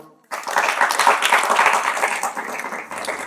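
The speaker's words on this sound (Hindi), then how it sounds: "तालियां बजाओ" A group of students in a classroom bursts into steady applause, many hands clapping together close by for a few seconds before it starts to thin out.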